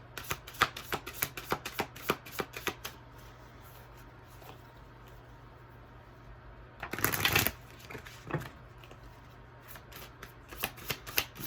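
Oracle cards being shuffled by hand during a tarot reading, a run of quick crisp riffling flicks, then a pause and a louder dense burst of shuffling, then more scattered flicks close up.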